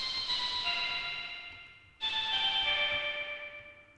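Two sustained analog synth notes from a Korg Minilogue, each a bright detuned chord with a sharp attack that slowly fades, the second struck at the midpoint, clean and solo.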